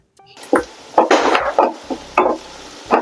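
Tomatoes go into hot oil in a pan for poori masal, bringing loud, close bursts of sizzling and stirring scrapes that come in uneven surges, with no talk.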